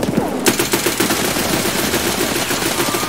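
Rapid bursts of automatic gunfire in a Shoreline map video-game firefight, loud and close, with sharp repeated shots running throughout over a busy background of game noise.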